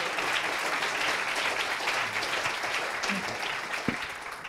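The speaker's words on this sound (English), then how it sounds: "So a very big round of applause for Anders Sandberg." An audience at a talk applauds Anders Sandberg with sustained, even clapping from a full room, moderately loud and steady, with no speech over it.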